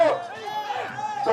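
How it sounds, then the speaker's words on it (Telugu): A crowd shouting and cheering at a village jatara festival bull-pulling competition in Dharmavaram, a brief burst of mixed voices yelling together, loud and close, with spoken commentary running through it. "కేకలు"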